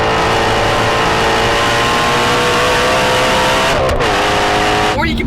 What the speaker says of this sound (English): listen to this amazing pushrod V8 just roar